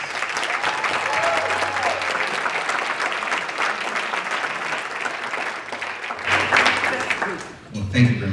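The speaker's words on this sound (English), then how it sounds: "So I'd like to big round of applause for Dr. Solis." Sustained applause from an audience at an awards event honouring Dr. Solis, dense and steady clapping that tapers off near the end as a voice begins.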